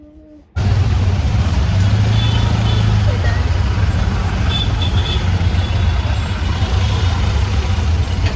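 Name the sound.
heavy road traffic on highway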